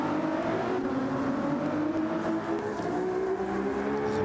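Ferrari 296 engine in Gran Turismo 7, a steady loud drone with rising harmonic lines as it accelerates through the gears, continuous and close with no talk.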